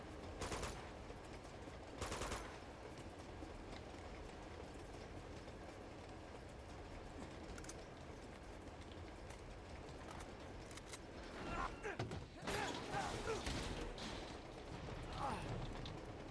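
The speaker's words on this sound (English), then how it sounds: "Real nice train you got here." Train rolling along in the video game Uncharted 2: Among Thieves, a steady rumbling wash with clattering bursts near the start and toward the end, moderately loud throughout.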